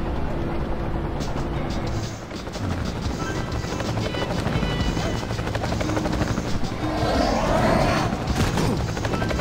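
A helicopter in the video game Marc Ecko's Getting Up attacks the player, its loud rotor thrum running steadily throughout amid gunfire and game noise, while someone talks over it.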